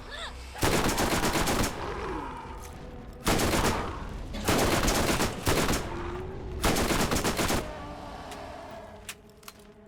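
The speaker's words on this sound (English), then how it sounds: "It's crazy how good this SMG is." Rapid submachine gun fire from a video game rings out in four loud, sustained automatic bursts with short gaps between them, over a low game background.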